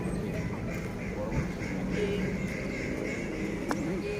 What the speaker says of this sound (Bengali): আর ওখানে হাঁস আছে